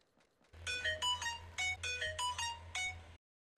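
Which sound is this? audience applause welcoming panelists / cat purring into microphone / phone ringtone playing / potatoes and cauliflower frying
phone ringtone playing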